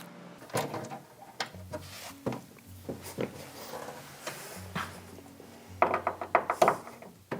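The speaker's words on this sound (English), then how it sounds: "First start off with getting this glass door out of here." Wooden knocks, scrapes and clunks come from a glass door being worked loose and lifted out of an oak side-by-side cabinet, scattered close impacts that build into a quicker rattling cluster near the end.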